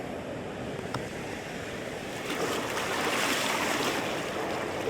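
Ocean waves wash up a sandy beach, a broad, hissing roar of surf that builds louder midway as the water rushes in close, with light wind noise on the microphone.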